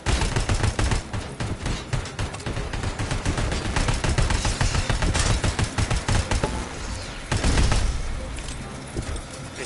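Rapid assault rifle fire in the first-person shooter Robocop: Rogue City, loud and nearly continuous for the whole stretch, dense cracking bursts with a brief lull near the end before firing resumes, over a busy game soundscape.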